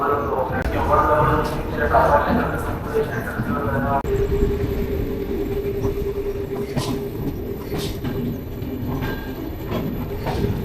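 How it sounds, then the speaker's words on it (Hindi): Sleeper express train pulling out of Ahmedabad, heard from inside the carriage as a loud, continuous rumble with rattling and wheel noise. People talk over it. "ट्रेन चालू हो गया है, अहमदाबाद से निकल रहे अब"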